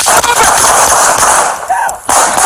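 Police officers open fire on a fleeing armed suspect who had been driving a stolen vehicle. Loud, distorted gunfire and harsh blasts fill the whole stretch, with a couple of sharp cracks cutting through.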